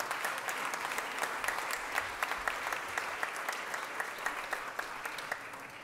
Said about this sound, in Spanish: Yo les pido un aplauso para todos ellos